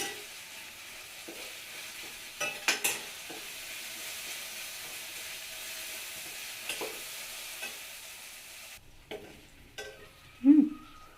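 Ingredients for a cucumber-coconut chutney frying in a pan, giving a faint, low sizzle with occasional spatula scrapes and knocks, and a louder thump near the end.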